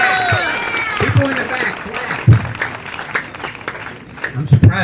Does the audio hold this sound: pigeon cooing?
no